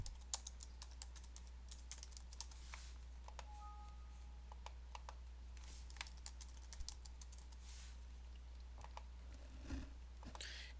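VBA code being typed on a computer keyboard: quiet, irregular bursts of key clicks with short pauses, over a steady low electrical hum and no talking.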